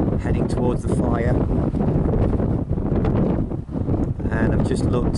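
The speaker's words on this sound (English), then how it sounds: "I can't actually see how they're going to put it out, because it is so windy" Strong wind roars and buffets a microphone during a large wildfire in Cyprus, a loud continuous rushing that fills the clip and largely masks everything else.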